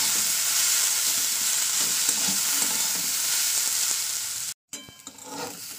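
A vegetable mixture frying slowly in a pan over low heat makes a continuous, even hiss with soft stirring scrapes. It cuts out briefly near the end, then resumes more quietly.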